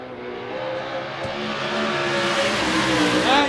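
A USAC/CRA sprint car with an Extreme chassis charges around the Phoenix, Arizona track, its engine a steady, loud, continuous drone that rises slightly toward the end. No talk is heard.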